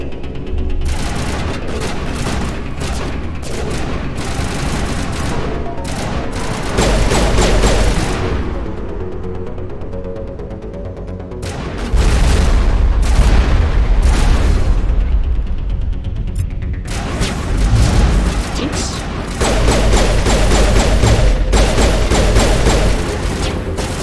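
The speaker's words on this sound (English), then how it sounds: "Keep shooting them!" Gunfire and explosions in the video game Mass Effect: Legendary Edition: loud, dense bursts of rapid shots and booms that rise and fall in waves, nearly continuous throughout.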